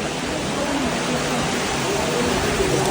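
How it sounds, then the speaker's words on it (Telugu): Rainwater runs down stone mountain steps on the climb to Tirumala, a steady broadband rushing wash that stays even and close throughout. "వాటర్ ఫ్లో అవుతున్నాయి"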